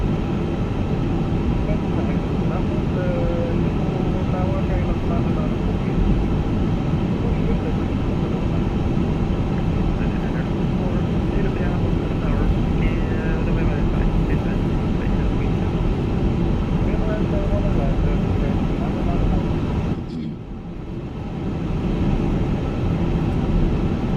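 An airliner taxiing on the ground in Microsoft Flight Simulator gives a steady, loud engine roar with a broad rumble. It holds constant for about twenty seconds, then dips briefly near the end.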